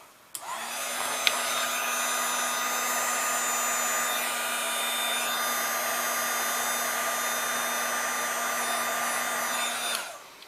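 An embossing heat tool blows hot air over embossing powder, a steady loud whirring hiss with a low hum that starts abruptly, runs unbroken for about ten seconds, then cuts off, with no talking.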